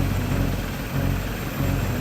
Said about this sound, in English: With the helicopter hovering over the target, the crew relay the boat's position to the approaching rig.